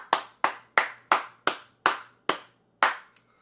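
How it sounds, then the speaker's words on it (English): Single pair of hands claps slowly, about eight sharp separate claps at an uneven, deliberate pace, close and clear with quiet gaps between. "Can we get a clap?"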